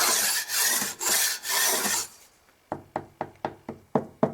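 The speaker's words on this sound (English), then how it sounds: "I'll just scrape all that filler that's not needed off the surface" Repeated scraping of excess filler from a plaster wall on a terraced-house staircase: loud rasping strokes in the first half, then a string of sharp taps spaced about half a second apart.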